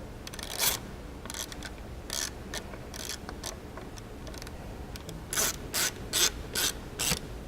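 Hand ratchet clicking as it snugs down a bolt on an A-arm skid plate for a Wildcat XX side-by-side, close up, with scattered short bursts of rapid clicks and a denser run of strokes near the end, no talk.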